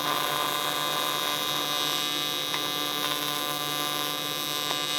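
A stick or arc welder laying a low-amperage tack weld, giving a steady, loud crackling buzz with a constant hum underneath and a few faint pops, with no talking.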